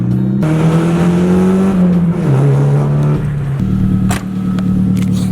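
An SR20-swapped Nissan 240SX engine accelerates hard from inside the car, loud and close, rising steadily through gears with brief drops at each shift before climbing again.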